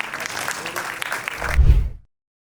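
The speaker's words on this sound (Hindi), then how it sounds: "स्वागत है जोरदार तालियों के साथ आपका।" An audience at a kavi sammelan at Chandigarh University applauds to welcome a poet, a steady wash of clapping that swells near the end with a low thump before cutting off abruptly.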